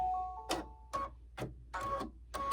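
An embroidery machine stitching a gnome design makes a steady run of sharp mechanical ticks, roughly two per second, over a faint motor hum, close and even.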